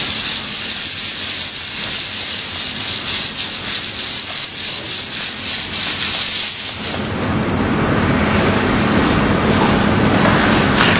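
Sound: capsule tops shaken into a manual capsule filling sheet

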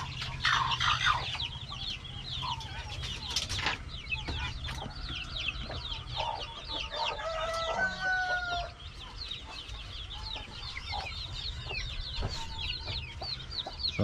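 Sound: newly hatched chicks

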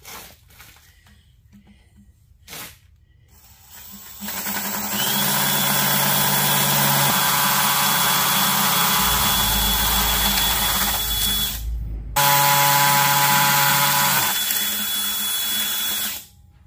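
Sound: hammer drill with masonry bit

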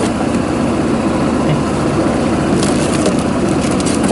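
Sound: Kymco GP125 scooter engine idling

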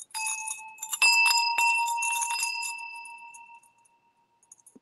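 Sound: brass apple bells ringing

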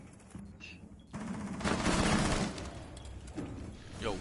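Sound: gunfire in the video game Rainbow Six Siege

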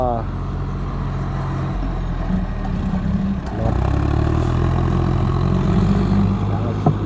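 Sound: John Deere 5055E tractor engine running

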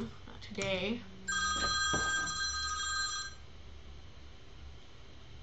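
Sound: alarm ringing

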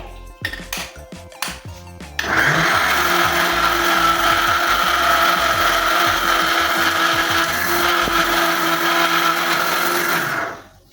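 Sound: mixer grinder grinding bread into crumbs

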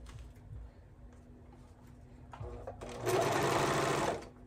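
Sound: sewing machine sewing the side seams of baby bell bottoms

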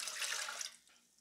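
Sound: water poured into a bread maker pan

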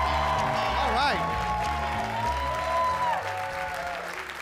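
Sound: audience applause for comedian

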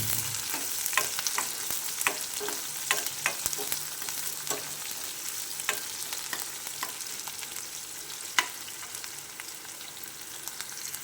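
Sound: onions added to cumin and frying in a pan

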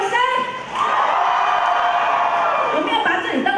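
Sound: concert audience screaming and cheering

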